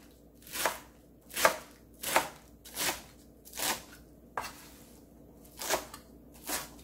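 Lettuce being chopped with a knife on a board, about eight separate crisp cuts at an uneven, unhurried pace, close and clear with no talking.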